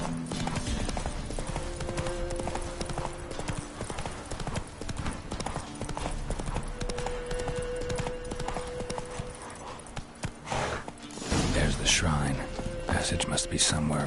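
Roach, Geralt's horse in The Witcher 3: Wild Hunt, gallops with steady, close clip-clop hoofbeats throughout, a whinny sounding near the end over game ambience.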